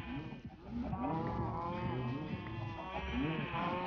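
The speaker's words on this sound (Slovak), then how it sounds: "Bože, kravy." Several cows moo in Minecraft, overlapping low drawn-out calls that repeat steadily across the whole stretch at moderate volume, with no talk over them.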